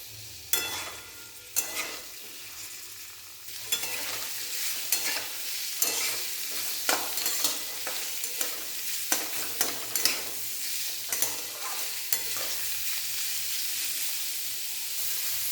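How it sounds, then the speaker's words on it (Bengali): Cut beetroot fries in hot oil over high heat with a constant sizzle, while a spoon scrapes and stirs the pan in repeated knocks and clatters, close by. "বেশ কিছুক্ষণ বিটগুলোকে এমনি এই তেলে দিয়ে নাড়াচাড়া করে নেবেন"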